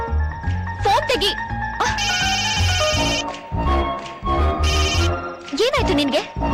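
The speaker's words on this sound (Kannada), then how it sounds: "ಫೋನ್ ತೆಗಿ." A telephone rings repeatedly and the call goes unanswered. Bright electronic ring bursts repeat over a busy background of voices and tonal sounds.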